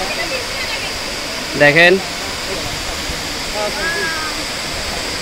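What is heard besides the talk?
waterfall, Double Falls, Ruma, Bandarban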